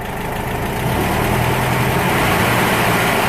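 A VW Brasilia engine runs loud and close, rumbling steadily from idle and rising slightly in intensity partway through, with no talk over it.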